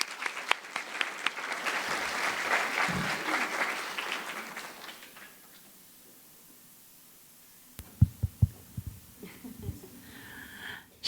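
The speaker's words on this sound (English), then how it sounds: "Let's give them a round of applause." Audience applause at a talk on Indigenous storytelling and oral tradition, a dense burst of many hands clapping that swells, then fades to quiet, with a few scattered claps returning near the end.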